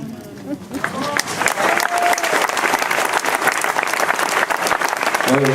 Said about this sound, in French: J'espère que c'est pour les militants que vous applaudissez,